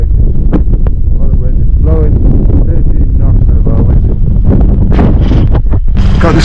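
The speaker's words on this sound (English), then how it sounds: "If you can hear me, with all this wind, blowing 13 knots at the moment." Strong 13-knot wind buffeting a sailing boat under engine near Puffin Sound, a loud continuous roar of gusts on the microphone with someone talking over it.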